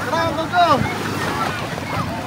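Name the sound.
sea waves at white sand beach, Bolinao Pangasinan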